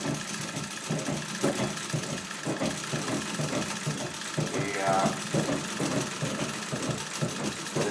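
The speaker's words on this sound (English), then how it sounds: "the noise that you're probably hearing is primarily my loud treadle" A loud treadle sewing machine runs continuously during free motion quilting of a star quilt, a busy mechanical clatter and rhythmic thumping close by, with a voice talking over it.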